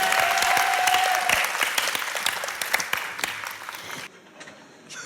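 An audience at a televised show breaks into loud, dense clapping with sharp individual claps, which thins and fades over the last second.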